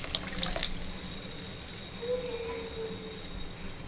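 Tamarind solution is poured into a fish curry (meen kulambu) in the pot, making a short liquid splash and trickle that settles into a faint steady wash.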